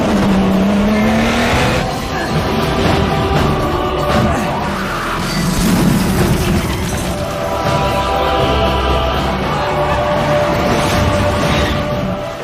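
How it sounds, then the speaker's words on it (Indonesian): A car on a race track veers out of control, with a steady loud engine roar that rises and falls through the whole stretch, some tire scrub mixed in, and no voices. "tiba-tiba mobil itu oleng gak terkendali dan akhirnya"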